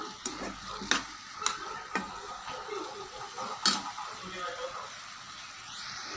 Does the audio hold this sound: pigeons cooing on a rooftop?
no